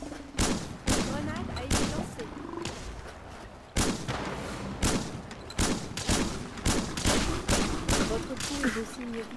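Gunfire in Fallout 4's Far Harbor: sharp shots crack out in irregular bursts, close and loud, scattered across the whole stretch, with someone speaking over some of them.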